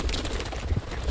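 A brief cartoon eagle cry in a Simpsons episode, a short bird call over a busy soundtrack bed without speech.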